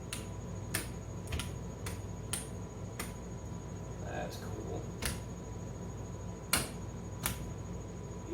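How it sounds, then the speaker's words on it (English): Relays in an electric home-brewing control panel with PID controllers click over again and again, sharp and close at irregular intervals about a second apart, over a steady low hum, with a brief voice near the end. "You can hear the relays clicking over."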